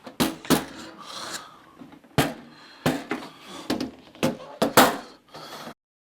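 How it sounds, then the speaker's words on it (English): Screws being worked loose from a Roland A-110 rack unit, a series of short scraping, rasping turns spaced irregularly, close and fairly loud, with no talk. "So, about time to get unscrewing."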